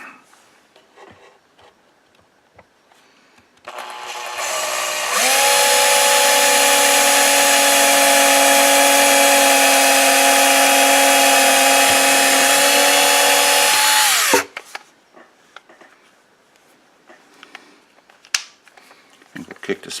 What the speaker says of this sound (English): let's drill our pilot holes